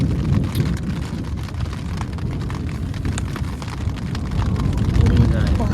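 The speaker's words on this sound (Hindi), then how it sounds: "तो अभी फिलहाल बारिश हो रही है।" Steady rain pours on a camping tent during a thunderstorm, a dense continuous hiss and patter close by with low rumbling underneath, rising slightly toward the end.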